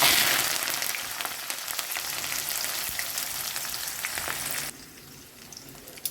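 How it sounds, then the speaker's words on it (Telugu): Onions frying in a pan with mustard seeds, cumin and garlic, a steady loud sizzle that drops off sharply near the end, followed by a single small knock. "ఉల్లిపాయ కొంచెం ఫ్రై అయిందండి"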